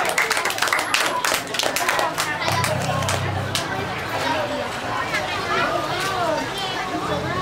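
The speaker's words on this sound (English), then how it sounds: "everybody please clap your hands for Kikuga" Children at a seventh birthday party clap their hands for a performer, sharp, fast claps scattered close by over lively chatter and someone talking.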